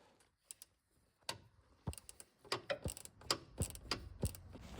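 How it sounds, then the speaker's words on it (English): A spanner tightening a nut on a Bentley T MPW Convertible produces quiet, close ratcheting clicks and metallic taps in irregular bursts, growing busier toward the end, with no talk. "when you're tightening it, go back to the correct spanner"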